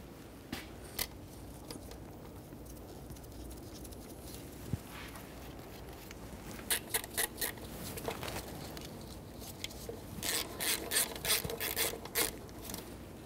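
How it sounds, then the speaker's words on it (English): Intake mounting bolt on a 2003-2007 Honda Accord being threaded in and snugged up during fuel injector replacement: faint metallic clicks and ratcheting taps, sparse at first, then a denser run of quick clicks near the end. "start in the mounting bolt and snug it up."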